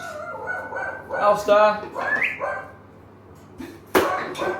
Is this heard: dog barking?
yes